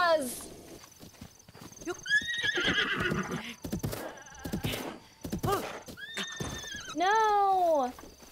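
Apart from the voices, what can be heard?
horses neighing and galloping in video game Zelda Breath of the Wild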